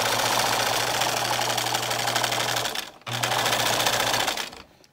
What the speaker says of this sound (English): Now we're going to sew the fabric along the long edges.